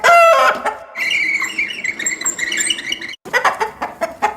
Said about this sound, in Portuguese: Uma galinha!